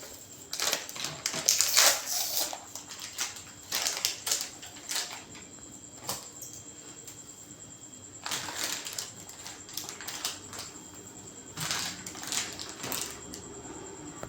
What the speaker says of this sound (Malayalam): സ്ക്രൂ അഴിച്ചു